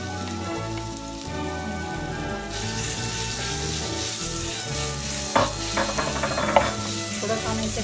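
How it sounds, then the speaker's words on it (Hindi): Garlic paste sizzles steadily in hot oil with cumin in a pan, stirred now and then, with a few sharper scrapes near the end, all under a continuous layer of background music. "तो अब हम लहसुन ऐड करते हैं, लहसुन का पेस्ट"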